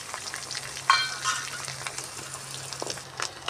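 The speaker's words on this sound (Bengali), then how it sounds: "আমি ওই তেলের মধ্যে দিয়ে দিচ্ছি ভেঙে রাখা ডিমটা। ডিমটা এর সঙ্গে ভালো করে ভেজে নেব" A beaten egg hits hot oil with potatoes in a home kitchen pan while making homemade chowmein, giving a moderate crackling sizzle with a sharper spatter near the start and a softer bubbling hiss afterward.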